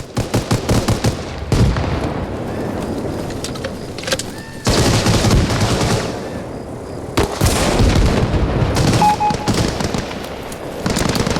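Rapid bursts of video-game gunfire in Arma Reforger crackle and rattle in dense volleys, with short pauses between long stretches of sustained automatic shooting, loud and close.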